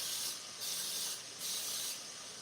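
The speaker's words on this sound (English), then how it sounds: "We're gonna spray them down so they come out easily." Cooking spray hisses onto mini loaf pans in three steady bursts, each about half a second long, close and alone with no talk.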